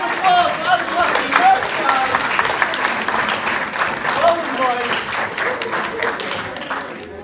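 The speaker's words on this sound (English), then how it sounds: "Yes! Round of applause for Adam Lucky," A school assembly audience applauds quiz winners, loud, dense clapping from many pupils close by, with cheering voices mixed into the steady applause.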